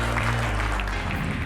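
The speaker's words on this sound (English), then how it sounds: "Give yourself a round of applause." A crowd claps steadily in sustained applause, fairly close and loud, with no talking.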